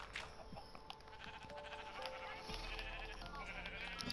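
Sheep bleating in a video game, several wavering cries over faint background sound, with people talking quietly at times.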